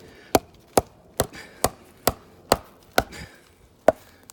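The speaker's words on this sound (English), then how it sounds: "get your knife like this on the side of the tree" A survival knife hacks into the side of a tree in eight sharp, evenly spaced chops, each a loud, close, woody thwack that dies away fast, with nothing else in between.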